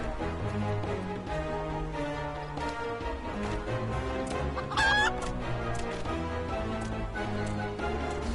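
Chickens cluck amid a busy Easter festivity scene, their clucks mixed into a dense, continuous musical backdrop with one brief louder squawk partway through.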